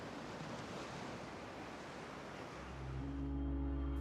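Ocean waves with splashing foam washing around rocks in open water, a steady broad surf wash that swells louder and deeper toward the end.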